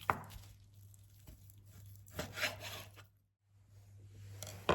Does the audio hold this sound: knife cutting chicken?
yes